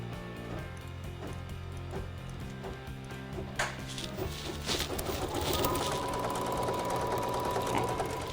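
An embroidery-style sewing machine stitches quilt batting in place, a steady close mechanical whirr with rapid needle clatter running throughout, growing slightly louder and busier in the second half, with no talking.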